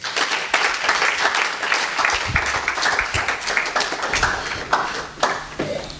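A church congregation claps and applauds steadily for several seconds, a dense, lively wash of hand claps filling the room.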